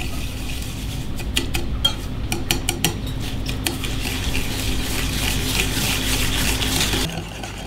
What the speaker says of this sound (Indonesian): 3 butir kuning telur, gula pasir, kocok hingga gulanya larut.